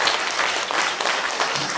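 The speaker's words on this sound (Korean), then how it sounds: "회장님 박수 치는 게 건강에 좋다니까 계속 박수 많이 치고 계세요" Steady, dense applause from an audience at a political party members' education meeting in Gimcheon, continuous and fairly loud with no voices over it.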